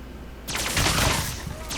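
Gunfire in the video game Fallout comes as a rapid burst of sharp shots, loud and close, with no talk over the firing.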